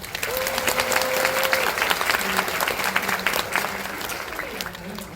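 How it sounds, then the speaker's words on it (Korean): An audience claps for actress Lee Joo-young at a film event, brisk, fairly close applause with a whistle near the start and voices murmuring beneath the clapping. "여러분들도 박수를 한번 보내주시기 바랍니다."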